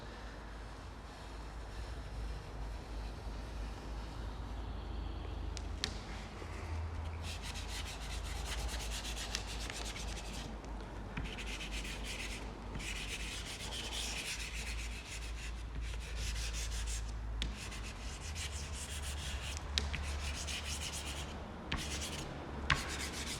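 Soft pastel chalk scrubbed back and forth across sandpaper, a steady close scratching rasp in irregular strokes over a low background hum, with no talking.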